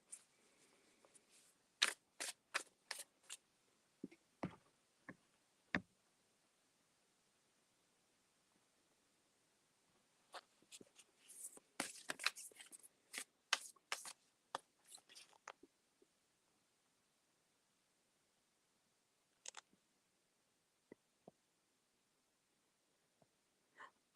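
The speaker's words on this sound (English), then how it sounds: "Shuffling for Kim Maple now" Oracle cards are shuffled close by in a quiet room at night, with soft papery riffles and taps coming in bursts separated by long silent pauses.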